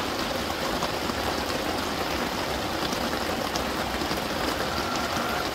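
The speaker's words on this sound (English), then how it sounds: "Is it rain coming down?" Steady rain pouring down during a Texas spring storm, a dense, even hiss of drops on surfaces with no letup, alone and fairly close.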